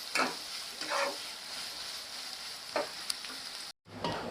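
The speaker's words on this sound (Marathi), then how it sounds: "आणि ते असे तेलात गोल्डन होईपर्यंत परतायचे." Ingredients fry in oil in a pan until golden, a constant close sizzle marked by occasional scraping stirs and a brief cutoff near the end, with no talking.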